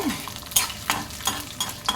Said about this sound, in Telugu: ఇది పోపు వేగుతుంటే